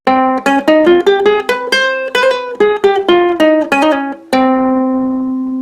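A ukulele plays a gypsy scale as a run of plucked single notes, rising and falling at an even pace, close and clear, ending on one long sustained note.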